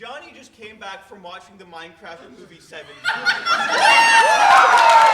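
Audience cheering and whooping swells loudly and fills the room after a man's spoken joke, with laughter rising beneath his voice before the crowd erupts at a live comedy broadcast.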